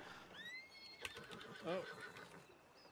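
A horse in the Red Dead video game gives a loud, close whinny that rises and falls over a couple of seconds, with faint voices and hoof clip-clop around it.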